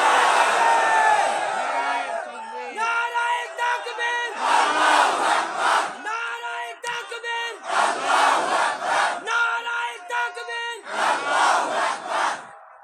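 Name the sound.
crowd chanting takbir (Allahu Akbar) at religious gathering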